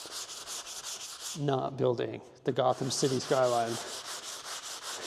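A surface is sanded by hand in a LEGO studio, rapid rhythmic back-and-forth scraping strokes at a steady pace, heard under someone talking.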